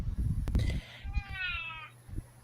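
A domestic cat meows clearly in the foreground, a single drawn-out call, with low room noise and faint background sounds around it.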